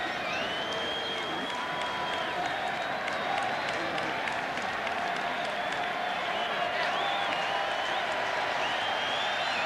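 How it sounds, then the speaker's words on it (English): A packed stadium crowd at the 1996 World Series Game 4, Yankees at Braves in Atlanta, keeps up a steady roar of cheering and clapping late in a long game, with a commentator speaking over it. "Crowd trying to rev it up again"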